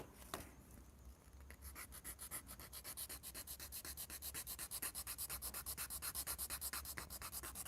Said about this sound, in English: Here, let me sand it a little more.